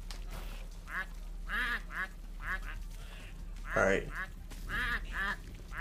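Repeated cartoonish goose quacks and honks ring out in bursts in the video game Rawmen, from a goose that shoots bras, with someone talking casually over and between the calls.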